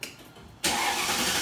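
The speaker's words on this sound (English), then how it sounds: "Alright, start the car." A Mercedes W220 sedan's engine is started: a quiet lull, then a sudden loud catch as it fires and settles into a steady, close, full-bodied run.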